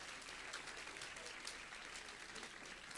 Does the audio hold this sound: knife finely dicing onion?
no